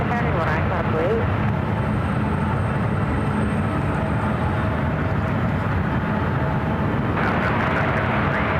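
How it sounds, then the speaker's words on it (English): An Air France Boeing 777-300ER passes directly overhead on approach at SFO, a loud, steady, broadband jet roar that fills the whole stretch. A faint high tone runs above it for a few seconds. "Looks like we have a heavy flying directly above us. This is Air France, Flight 84, coming in from Paris on the 777-300ER."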